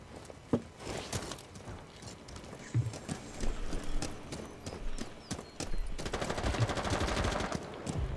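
Gunfire in the video game Rainbow Six Siege: scattered sharp shots and rapid automatic bursts, with a sustained stretch of rattling fire near the end, mixed with footsteps and clatter.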